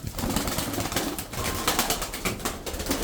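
Tumbler pigeons from Kırşehir, including a smoky-grey female, give soft cooing and wing flutters inside a steady, noisy backdrop with no voices.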